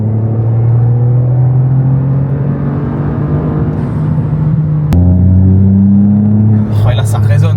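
A Toyota GR Yaris engine rumbles close by near walls, holding a deep steady drone before stepping up in pitch as it pulls away, and a voice talks over it.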